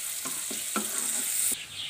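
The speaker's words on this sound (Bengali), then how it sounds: "এটা হালকা ব্রাউন করে ভেজে নেবো প্রথমে পেঁয়াজটাকে।" Chopped onions fry in melted butter with a soft, steady sizzle, broken by a few light stirring scrapes in a quick rhythm, close and fairly quiet.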